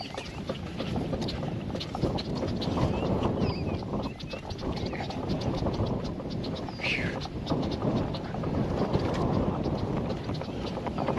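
Outdoor wind buffets a microphone and flaps a hat flap, a loud continuous rumbling roar with gusty surges and flutter throughout.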